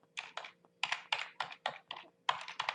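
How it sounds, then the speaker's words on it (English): Close, crisp typing on a computer keyboard, a quick irregular run of key clicks in short bursts with brief pauses, alone. "I'm just going to type in the Conversion Pros."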